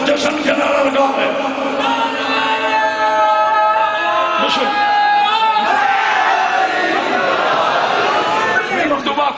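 A crowd at a religious celebration honouring Imam Husain and Ghazi Abbas chants loud celebratory slogans, voices rising together in sustained, tonal shouts with swells and bursts, close and continuous.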